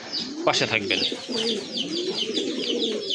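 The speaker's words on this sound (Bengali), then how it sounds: "একজোড়া রাজগোল্লা কবুতর," A pair of large white-and-black Rajgolla pigeons coo in low, rolling bursts close by, mixed with sharp higher chirps from other birds, while someone speaks briefly at the start.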